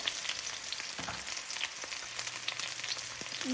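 Onions frying in oil, a soft continuous crackling sizzle with scattered small pops, fairly quiet and close, without any speech.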